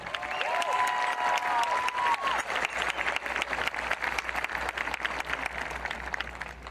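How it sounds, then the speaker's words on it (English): A 2021 Santa Fe High graduation crowd bursts into sustained, dense applause that stays loud and even throughout, with a few whistles rising above the clapping early on. "Let's give our administration and teachers a huge round of applause as well."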